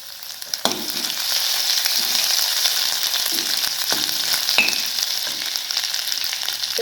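Crushed ginger-garlic paste sizzles steadily in hot oil in a kadai, a continuous close frying hiss with a few sharp crackles and the clink of a spoon.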